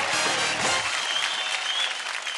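Studio audience applause at Dance India Dance Season 3, a televised dance competition, a broad, steady burst of clapping from the crowd that holds on for the full stretch without any talk.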